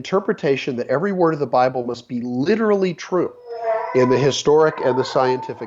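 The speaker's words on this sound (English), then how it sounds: "that's my dog sort of lending a little background noise." A dog howls in the background, its long rising and falling howl running under a man's continuous close speech.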